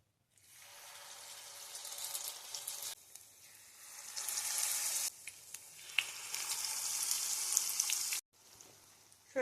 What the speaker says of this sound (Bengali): নিয়ে কিন্তু এই গোছা ধরেই একদম ডুবো তেলে ছেড়ে দিতে হবে।